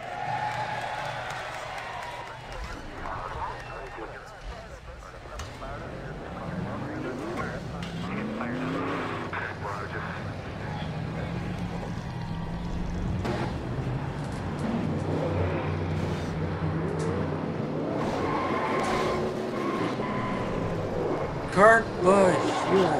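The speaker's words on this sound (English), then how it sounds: "Crank them engines!" Engines of NASCAR stock cars in the racing sim NASCAR Racing 2003, firing up and roaring at a steady drone with rising and falling pitch, under continuous talk.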